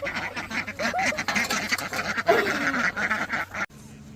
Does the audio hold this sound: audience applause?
no